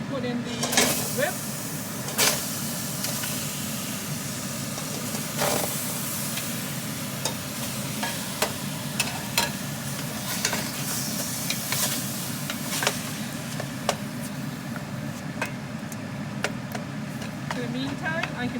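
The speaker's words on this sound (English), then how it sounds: "Okay, my pot is hot now, so I am going to put in the rib." Ribs sizzling in a hot pot for sweet garlic ribs, a loud continuous searing hiss with frequent sharp pops and crackles throughout.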